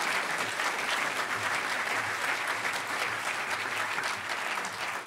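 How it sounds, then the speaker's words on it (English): Steady applause from a large audience at a hacker conference closing ceremony, a continuous wash of many hands clapping at an even level, somewhat distant, tapering slightly at the end. "a really huge round of applause for taking over at the last minute"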